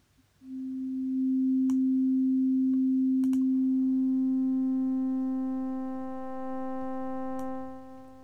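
A miRack synthesizer tone sweeping automatically between waveforms: a steady sustained pitch that gradually grows brighter as added harmonics fade in, with a few faint clicks along the way.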